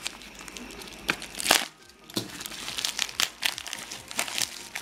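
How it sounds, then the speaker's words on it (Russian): A plastic AliExpress parcel holding 9-volt batteries is opened up close, with loud crinkling, rustling and a few sharp tearing bursts in irregular handling rhythm and no talking. "Сейчас мы быстренько откроем вторую"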